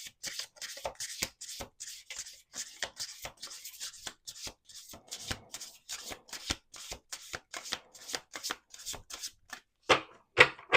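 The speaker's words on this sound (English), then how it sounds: "Let's do one more shuffle." A deck of playing cards is shuffled repeatedly on a table, giving a long run of quick, crisp riffling bursts and taps in an irregular rhythm, close and fairly quiet.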